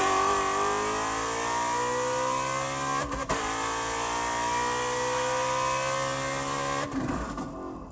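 A 950 hp Shelby GT350 accelerates hard in second gear, its engine a loud, sustained rising drone from inside the car. The drone breaks briefly around a shift and again near the end as the pull finishes.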